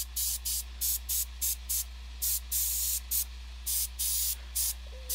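Bursts of spray from a Badger airbrush laying down paint on a half-scale bust, a dozen or so short hissing pulses in an uneven rhythm, close and clear over a steady low compressor hum.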